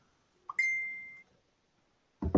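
A phone gives a short electronic alert beep, one clear sustained tone lasting under a second and fading, heard during a Rubik's cube competition final in Montenegro, followed by a brief burst of louder noise.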